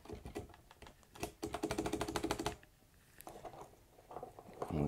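Blank Ducky Thick PBT keycaps pressed onto a mechanical keyboard, a burst of sharp clicky snaps in quick succession, loud and close, then a few scattered taps.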